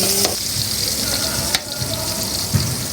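Onions frying in a pan while being stirred for a Filipino chicken and shrimp coconut dish, a steady close sizzle with scraping stir strokes and a couple of sharper clinks, no talking.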